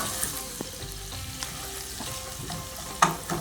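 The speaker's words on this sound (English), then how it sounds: "So we'll saute this one" Chopped onion sautéing in a pan for restaurant-style matar paneer, a steady soft sizzle with occasional stirring clinks and scrapes, close and alone with no talking.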